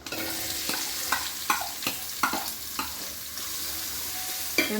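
Chopped big and small onions frying in oil for chicken gravy, a continuous close sizzle with a run of sharp spatula scrapes and taps against the pan at irregular intervals, no voices.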